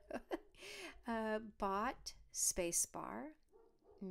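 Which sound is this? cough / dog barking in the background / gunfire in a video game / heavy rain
dog barking in the background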